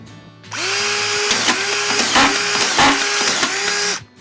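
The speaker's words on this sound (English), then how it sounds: "You just turn it on and drive screws." Senco DuraSpin screw gun driving screws into drywall: a loud whining motor runs steadily, with several short bursts and pitch dips as screws seat, then it stops.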